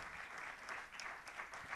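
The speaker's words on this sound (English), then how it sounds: "Right, carry on clapping, everyone." An audience at a national debating final in India applauds steadily for the best individual speaker, a dense, even wash of many hands clapping with no pauses.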